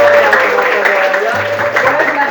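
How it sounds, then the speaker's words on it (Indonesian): A group of trainees at a training session claps together, the applause running under a speaking voice that carries over it for the whole stretch. "Oke, tepuk tangan dulu."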